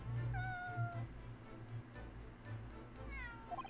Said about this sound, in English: That was a cheeky little meow, Wagahai.